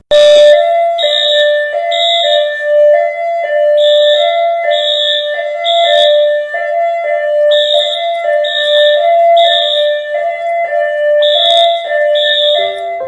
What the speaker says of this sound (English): A school custodian is alone at the school when the alarm suddenly goes off on its own.